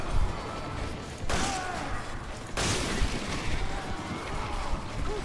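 Loud gunshots ring out in Resident Evil 5 Mercenaries mode, sharp blasts amid busy game noise, with a player's voice talking faintly underneath.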